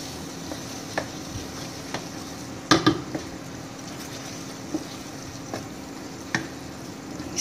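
Chicken filling is mixed in a pan with a spatula, giving a steady close sizzle broken by sharp scraping knocks against the pan, with a cluster of louder clatters partway through.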